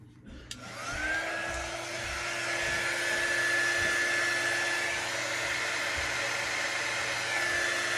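A hair dryer blows steadily on a freshly wiped etched craft project, a loud whooshing airflow with a motor whine that switches on at the start and holds continuous for the rest of the clip.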